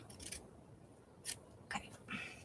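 Scissors snipping through glossy magazine paper in a small room, a few quick crisp cuts in short bursts with pauses between, fairly close and quiet.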